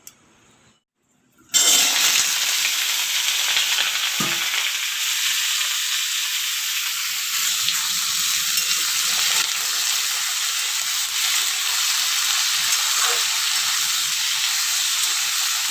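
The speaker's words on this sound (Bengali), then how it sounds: "তেল গরম হয়ে গেছে, এবার আলু আর ঝিঙে দিয়ে দেবো" Potatoes and ridge gourd frying in hot oil in a dim home kitchen, a loud steady broadband sizzle that starts abruptly after a short quiet moment and continues unbroken, close up, with no talking.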